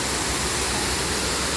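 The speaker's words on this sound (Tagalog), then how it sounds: "Yun ang falls." A waterfall at Hong Kong Park pours as a dense, steady roaring rush of water, loud and continuous throughout.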